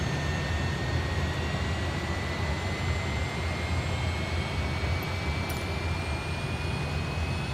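Jet engine running on a Dornier Do 31 in Microsoft Flight Simulator 2020, a loud, constant roar with a thin rising whine layered on top, unbroken for several seconds with no talk.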